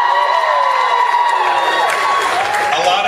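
A comedy-show audience cheers and whoops, a dense wash of crowd noise with scattered shouts and applause, sustained and loud from start to finish.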